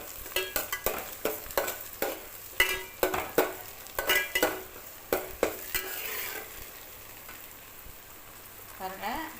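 Onions and garlic frying in a pan for a Tamil fish curry, with repeated stirring scrapes and clinks over a soft, steady sizzle close by, the stirring strokes coming in quick bursts before settling into a continuous hiss.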